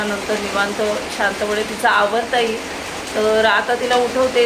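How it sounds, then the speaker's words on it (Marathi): Continuous heavy rain hisses steadily in the background throughout, while a person talks close by over it. "पाऊस पण खूप आहे ना, कंटिन्यू पाऊस आहे"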